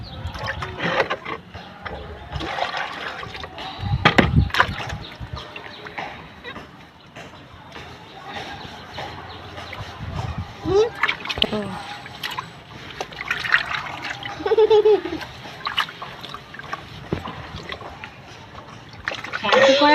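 Water splashing and trickling while someone is bathed with flowers beside a pond during a birthday, with irregular close splashes and drips heard under frequent talking.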